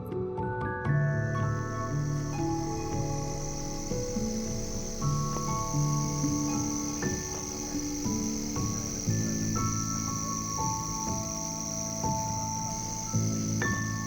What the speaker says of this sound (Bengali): রিসিপশনে যাওয়ার আগেই বাইরে দাঁড়িয়ে ঝিঝি পোকার ডাক শুনছিলাম।